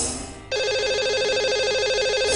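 A telephone rings while a number is being dialed: after a brief hum, a steady bright electronic ring starts and holds clearly, alone and close.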